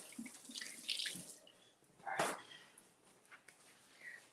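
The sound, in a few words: water running from a tap while washing hands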